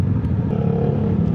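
Yamaha Xmax scooter engine held at high revs, a steady loud droning roar throughout, heard close up and without any talk.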